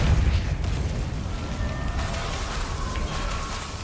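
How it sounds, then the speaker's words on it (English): A fire spell, Incendio, cast in the Hogwarts Legacy game: a dense roaring whoosh of flame with a low rumbling burst at the start, then sustained crackling noise fading slightly, loud and close, with no talking. "Incendio."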